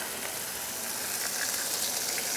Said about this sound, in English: No good sizzle going on with that already.